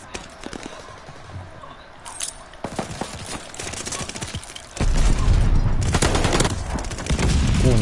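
Rapid bursts of automatic gunfire and single sharp shots from the Warzone video game crack in irregular clusters, growing denser and louder toward the end, with a faint voice briefly underneath.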